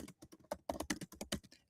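Rapid typing on a computer keyboard while entering a phone number into a form, a close, steady run of distinct key clicks with short pauses and no talking.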